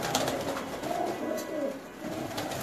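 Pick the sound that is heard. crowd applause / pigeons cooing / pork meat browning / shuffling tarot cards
pigeons cooing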